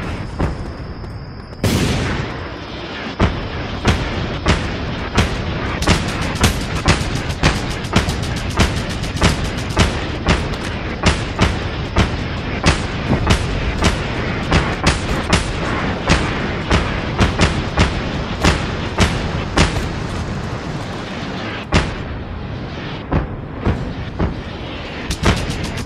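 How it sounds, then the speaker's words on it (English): Rapid, relentless bursts of gunfire and booming blasts in the video game Just Cause 2 Multiplayer, loud and continuous, with sharp repeated cracks over a rumbling barrage. "Still hear explosions, but just less of them."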